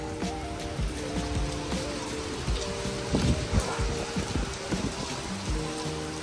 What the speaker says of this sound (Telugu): చాలా వర్షం అండ్ గాలి రెండు కలిపి అయితే వస్తున్నాయి